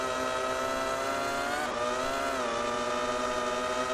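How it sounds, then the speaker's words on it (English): A Toyota Formula One car engine in the racing game Formula One 2002, on the Austrian Grand Prix circuit, screams at high revs, loud and sustained, with the pitch dipping briefly and climbing again mid-way. "revving the tits off the Toyota then"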